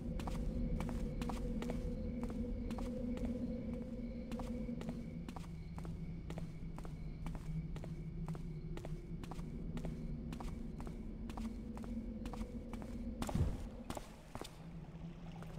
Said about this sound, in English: Now it's gone back to the guard footstep noises